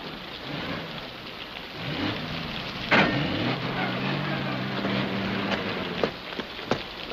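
Heavy rain falls steadily outdoors, with a sudden crack of thunder and a low rumble partway through, plus a few sharper thuds late on.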